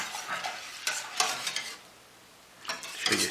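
Chicken broth with gelatin is stirred in a pot, producing short scraping, sloshing bursts in an uneven rhythm with a quiet pause partway through, close and moderately loud, with no voices.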